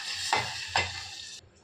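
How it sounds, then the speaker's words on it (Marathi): Water splashes twice into a hot pan, each pour setting off a burst of loud hissing sizzle that runs on steadily, then cuts off sharply near the end. "तर चला, आता आपण यामध्ये पाणी टाकणार आहोत."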